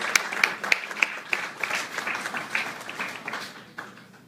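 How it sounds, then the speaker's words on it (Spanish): An audience at a book launch applauds, a dense crowd of clapping hands, fairly close, starting strong and gradually tapering off. "Brindemos al autor de la obra que nos ocupa un fuerte aplauso."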